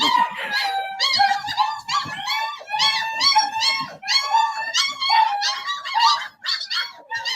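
Puppies whine and yip close up in a rapid, continuous series of high-pitched squeals and whimpers, loud and overlapping with almost no pauses.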